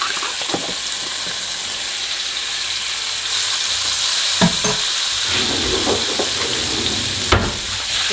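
A spoonful of garlic sizzles and hisses steadily in a pan of creamy white sauce made for steak, with a few soft clicks of stirring and no talking.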